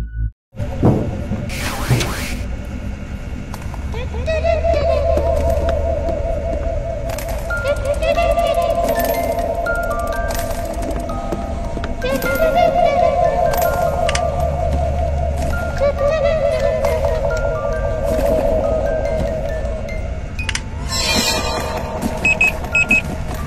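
High, warbling little voices sing a wavering tune in a video game, with bleeps and electronic game sounds around them.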